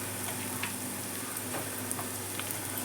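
Two spoons of ginger garlic paste frying with browned onions in a pan for a gongura mutton curry, a steady soft sizzle with faint scattered ticks and stirring clicks, no voices.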